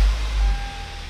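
A used Kia Sorento engine catching and settling into idle, a loud low rumble with a steady broadband whir, close by and with no talk over it.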